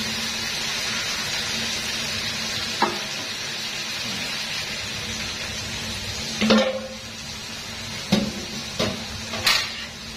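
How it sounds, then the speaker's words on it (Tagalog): Marinated chicken pieces sizzling and frying in a pan with sautéed garlic, a steady close hiss broken by louder bursts as the meat is stirred and shifted, with occasional light clinks of utensil against the pan. "Kaya lagay na natin itong ating minarinate na manok."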